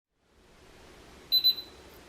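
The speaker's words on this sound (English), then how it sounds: "Sorry, the alarm is going. It just keeps beeping for some reason." A house alarm gives a few quick high-pitched electronic beeps in short succession, clear and fairly close in an empty home, over faint background hiss.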